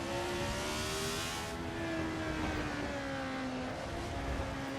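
A race car engine at full throttle on the Clermont-Ferrand circuit, a steady loud drone whose pitch climbs and falls through the gears, close and continuous with no talk.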